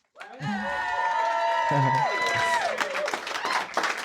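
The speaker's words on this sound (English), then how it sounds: "Let's give a big Drop Comedy Club round of applause for Bob Rupp" At the Drop Comedy Club, a crowd cheers and applauds a new stand-up comedian taking the stage, with whoops and shouted voices rising over a dense wash of clapping that grows toward the end.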